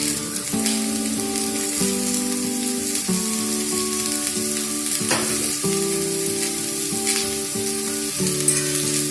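Shredded cabbage tossed and stir-fried over high heat for Kolkata street-style veg Hakka noodles, a loud continuous sizzle with spatula scraping and clanging in a wok, accompanied by background music.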